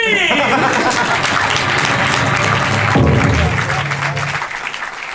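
Audience applause at an improv theatre show in Paris, a full crowd clapping loudly and steadily with scattered laughter and a brief voice, fading slightly toward the end.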